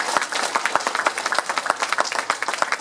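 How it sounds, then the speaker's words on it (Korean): Audience applause at a patriotic lecture rally in Houston, many hands clapping in a brisk, fairly dense rhythm with distinct individual claps standing out, steady and moderately close for the whole stretch. "박수 한번 쳐서 지지해 주시고 감사하겠습니다"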